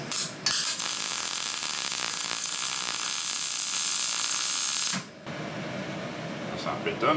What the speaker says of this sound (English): So I'm going to weld these two up.